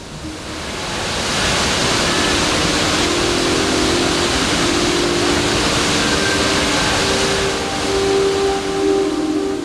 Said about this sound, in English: This is the spectacular Blue Nile Falls.